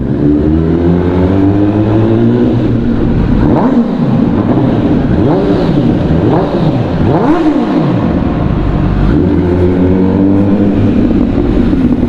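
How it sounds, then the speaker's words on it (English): MV Agusta 1000 motorcycle with a mid-pipe exhaust mod, loud and close, idles with a deep rumble, then is revved in several sharp blips that rise and fall before it settles back to a steady idle. "the truth is it's the mid-pipe mod that makes it sound so good"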